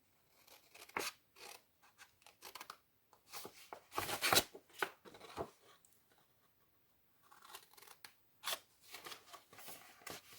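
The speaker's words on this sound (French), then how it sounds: "nous allons prendre un ciseau et couper" Scissors snipping through paper for a travel album page, close and fairly quiet, in irregular bursts of crisp cuts and rustling separated by short pauses.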